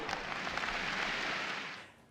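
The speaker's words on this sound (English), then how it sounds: "you'll hear the oohs and ahs of the crowd, and you'll hear them clapping and everything whatnot after certain games or points" A tennis crowd in the Virtua Tennis video game breaks into brief applause, a soft, even wash of clapping that holds for a moment and then tapers off quickly.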